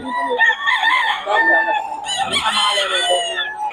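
A pure Kelso gamefowl rooster crows loudly and close, two drawn-out calls back to back over a short stretch, with faint talk of people mixed in.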